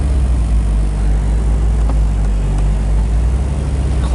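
A 1991 Lotus Elan with a five-speed manual pulls away, its engine a loud, steady low rumble filling the whole stretch with no voices.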